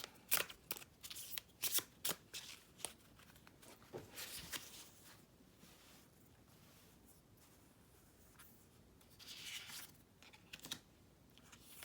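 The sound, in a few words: shuffling and drawing oracle cards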